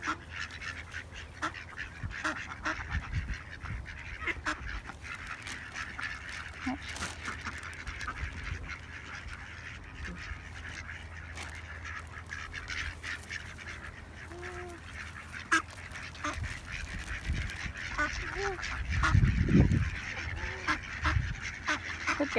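Ducks and geese quack and honk at a nature park as they are fed bread, with a steady chorus of nearby calls and people talking throughout.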